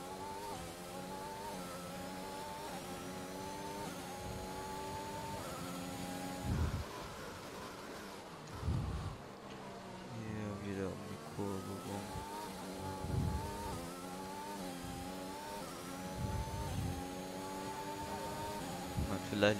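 A Williams Formula 1 car from the F1 2021 game lapping the Belgian Grand Prix circuit, its engine whining steadily through gear changes and throttle lifts, with a voice speaking over it at times.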